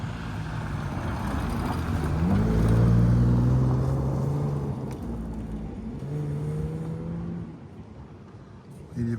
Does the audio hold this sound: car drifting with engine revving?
yes